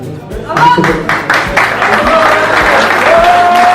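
Crowd at a poker camp closing ceremony bursting into loud, sustained applause, many hands clapping close by with cheers, while voices and a brief tone carry over the clapping.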